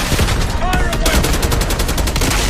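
Dense, rapid automatic gunfire in Call of Duty Black Ops 6, continuous loud bursts with rattling shots packed together for the whole stretch, with a voice briefly shouting over the din.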